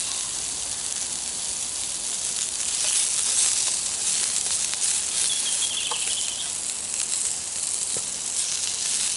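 Pork pieces sizzle while browning in a pot over an outdoor fire pit, a steady bright hiss of frying that carries on unbroken, with occasional small pops and crackles over a faint rustle of bush surroundings.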